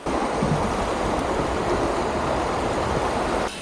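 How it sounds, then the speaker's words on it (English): Small, cold forest stream in Cathedral Grove near Tofino, a steady, close broadband rush of flowing water that holds even throughout, with no voices. "Such a cute little stream."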